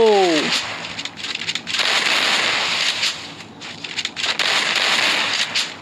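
Gunshots in a Free Fire 1v1 custom battle, a steady crackle of repeated shots with a few sharper peaks, fairly loud throughout.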